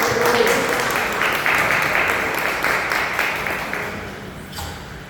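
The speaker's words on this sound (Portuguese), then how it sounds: "Aplausos ao Senhor por graça." Sustained applause from a church congregation, a dense steady wash of many hands clapping that gradually tapers off toward the end, with faint voices beneath.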